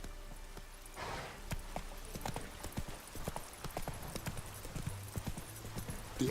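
In The Witcher 3 video game, hooves clip-clop in a quick, steady galloping rhythm throughout, fairly quiet, with a faint low rumble underneath.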